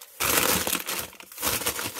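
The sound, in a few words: plastic bag being crumpled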